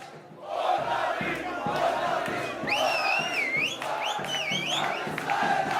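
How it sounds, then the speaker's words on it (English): A large crowd of Israelis in Jerusalem in December 2017 roars and chants, with shrill whistles sweeping over a steady rhythmic thumping beat. "Israelis are cheering"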